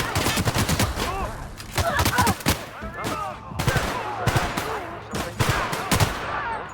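Rapid bursts of pistol fire in the video game The Outer Worlds, loud clustered cracks repeating in quick volleys throughout, with whooshing game effects between them.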